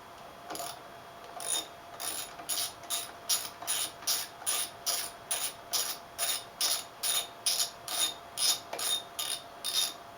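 A ratchet backs out a 5mm bolt on a motorcycle garage door opener setup, giving a quick run of regular clicking pawl strokes, close and clear, about a dozen in a row.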